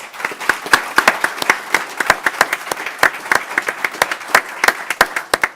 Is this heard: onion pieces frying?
no